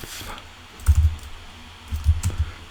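Typing on a computer keyboard, with two short bursts of close, dull key taps separated by a pause.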